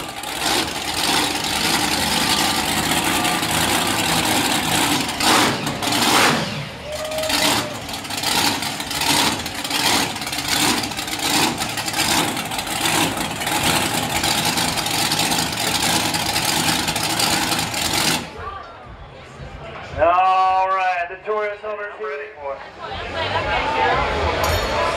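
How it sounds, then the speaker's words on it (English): A diesel Hummer with a big blower on the engine idles loudly and steadily at a Yankee Lake truck event, with a crowd and an announcer talking over it before it cuts off near the end. "With a big old blower motor under the hood."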